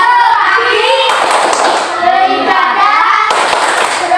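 Children clap hands in a quick rhythmic pattern, with bursts of claps between chanted voices close by, performing an Indonesian classroom clapping chant.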